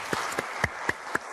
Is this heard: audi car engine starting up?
no